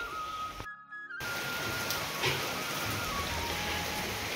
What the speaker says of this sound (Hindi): तो दोस्तों बारिश भी शुरू हो गई